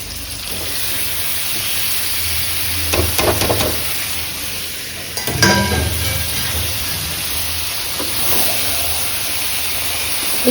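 Meat tipped into a large wok of hot spiced oil with potatoes and capsicum sizzles and hisses steadily, with a couple of louder spitting bursts as pieces hit the pan, close by and with no talking.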